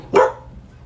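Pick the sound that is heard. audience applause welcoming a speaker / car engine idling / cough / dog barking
dog barking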